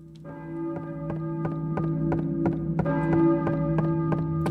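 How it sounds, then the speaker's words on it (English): A church bell tolls in Silent Hill 1, a steady series of ringing strikes with sustained tonal overtones, loud and evenly spaced and fading in slightly at the start, with no voices. "I hear a church bell maybe."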